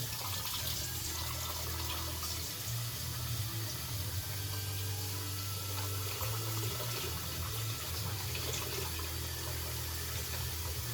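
Hot water runs steadily from a kitchen tap into a pan while instant jjajang noodles are prepared, a continuous soft rushing and splashing at moderate distance with no talking.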